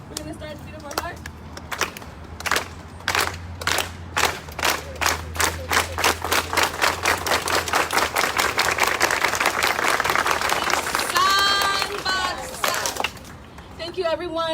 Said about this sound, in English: we're going to do a unity clap